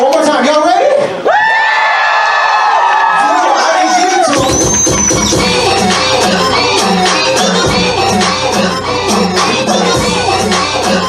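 Loud convention crowd at a FurSquared dance floor event cheering, whooping and yelling in response to a host's call, with amplified voices and thumping music kicking in partway through.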